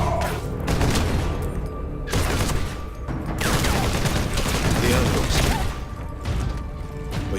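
Bolter gunfire roars through a Warhammer 40,000: Space Marine cutscene, dense and loud, pouring out in sustained rapid volleys separated by brief lulls, with crashing impacts woven through the barrage.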